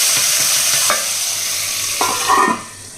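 Hot tempering hits the sambar with a loud, steady sizzle, with a couple of sharp crackling bursts as it settles.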